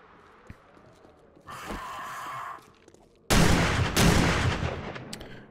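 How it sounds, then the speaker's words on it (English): Blasts from a crude shoddy shotgun in the survival game 7 Days to Die, set in a snow biome, with a muffled burst followed by a louder, broad booming shot trailing into noisy decay. "we can kill a Larry with four shots of the shoddy right now"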